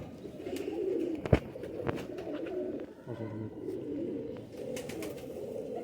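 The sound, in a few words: Nayab Sialkoti pigeons cooing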